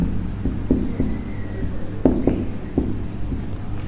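Marker or chalk writing on a board, a quick run of scratchy strokes and taps, close and fairly loud over a low background hum.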